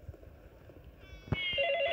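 A mobile phone starts ringing in the horror video game The Dark Internet, with a sharp knock first and then a steady electronic ringtone tone over quiet game ambience, with no speech.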